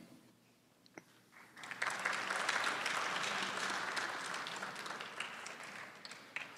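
An audience at a religious debate breaks into applause after a faint click, the clapping swelling quickly into a sustained, even roar of many hands that holds steady and then begins to thin.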